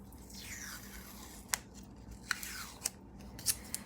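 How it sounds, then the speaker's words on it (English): Scissors snip a piece of tape in several sharp, close clicks spaced about a second apart over a quiet room background. "Because I decided to use tape, I'm going to take a piece of tape"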